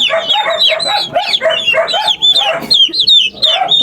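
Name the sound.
turkeys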